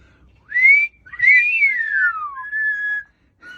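A pet parrot whistles in three clear, bright phrases, the middle one a long rising-then-falling slide and the last a steady held note, close and loud with short gaps between.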